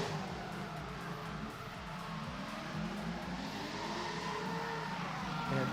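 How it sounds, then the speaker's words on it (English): A drift car at a Drifting the Plains event revs hard through a handbrake pull, making a steady, loud engine roar with a changing pitch, heard from a distance across the track, with no talking. "Going to do a big handbrake pull."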